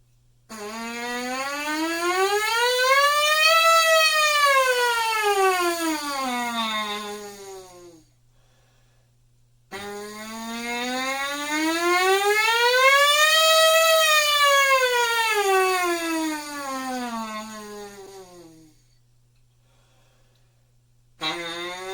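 Brass instruments play siren glissandos, sliding smoothly up and then back down in two long sweeps, loud and sustained, separated by a brief pause.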